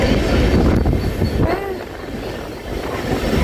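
Passing Sion station on platform 1 without stopping, the CSMT–Dhule Express rumbles loudly with wheel clatter and a brief rising squeal of wheels, easing slightly before swelling again.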